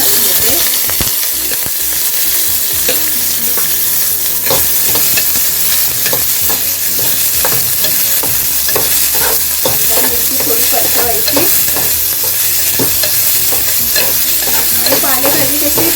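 Onion and green chili frying in a little hot oil make a loud, close sizzle, broken by frequent scrapes and clatters as the pan is stirred, with no talking.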